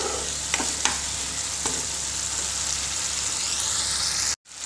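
Spice masala with tomato sauce fries in a pan with a steady loud sizzle, broken by a few scraping stirs and clinks of the spoon, then cutting off abruptly near the end.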